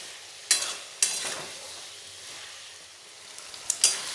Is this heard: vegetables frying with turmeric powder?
yes